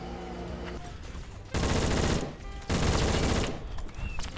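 Rapid gunfire bursts in a first-person shooter video game, two loud sustained volleys of automatic fire over a background of game music and ambience.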